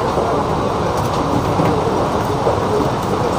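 A train stands at Baichi station, filling the clip with a loud, steady broadband rumble and hiss that never lets up.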